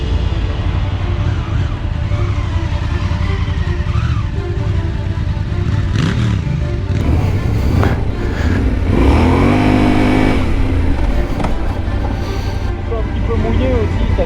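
Yamaha Ténéré World Raid motorcycle lapping a muddy dirt track, engine revving and rising in pitch through gear changes, loud and continuous over wind noise.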